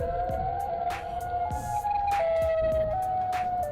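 A wailing Siren Head siren from Minecraft rises and falls in steady tones, loud and close, overlaid with sharp clanking game sound effects.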